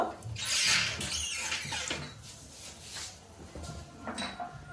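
Dried red chillies dropped into hot oil for a tomato chutney, giving a crackling, spitting sizzle that flares loudly at first and then settles into a steadier, quieter frying hiss.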